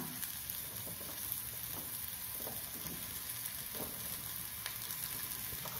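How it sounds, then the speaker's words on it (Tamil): Mushrooms sautéing in a pan on a low flame with coriander powder, a steady close sizzle and crackle with light stirring, alone with no talk. "இப்போ காளான் சேர்த்துக்கலாம்."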